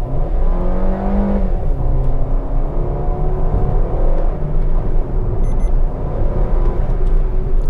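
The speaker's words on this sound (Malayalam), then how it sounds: "എഞ്ചിൻ്റെ സൗണ്ട് ശരിക്കും ഓഡിബിൾ ആട്ടോ." Maruti Suzuki XL6 with a 1.5-litre K-series petrol engine and automatic gearbox accelerating on the road, a steady, loud rising engine drone heard from inside the cabin, with smooth climbing revs and a gear change partway through.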